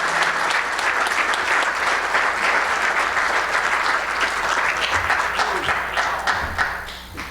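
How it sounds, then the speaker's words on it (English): An audience at an award ceremony applauds steadily as a 2019 Living Legend honoree is called up. The dense clapping stays loud and even throughout, then tapers off slightly at the end. "Let's hear it for our 2019 Living Legend, Mike Schmidt"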